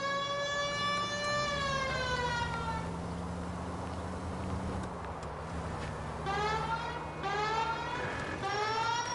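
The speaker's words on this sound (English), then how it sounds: "We might get there quicker if you use the siren." A police car siren wails in the video game LA Noire, rising and falling in long sweeping tones that fade briefly mid-clip and then return loud and close over an engine rumble.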